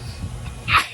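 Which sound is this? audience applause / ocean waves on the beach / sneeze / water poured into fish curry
sneeze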